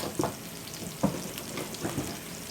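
Whisk stirring gravy mix in a bowl during Salisbury steak prep, a few soft scraping strokes with faint clicks against a steady background hiss, quiet and close.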